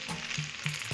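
Macaroni sizzles steadily in a frying pan with soy sauce and chili sauce, a continuous close hiss with a few scraping stirs and no voices.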